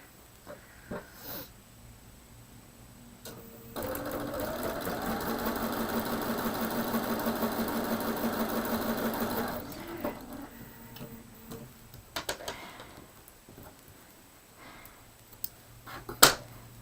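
Sewing machine stitching quilt pieces together: a single steady whirring run of about six seconds, preceded and followed by quieter handling clicks and taps.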